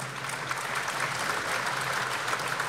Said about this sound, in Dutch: Dames en heren, een warm applaus voor de voorzitter van de jury